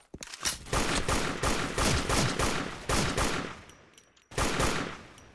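Rapid bursts from a toy M1 carbine airsoft gun firing pellets, dense crackling volleys broken by short pauses, loud and close.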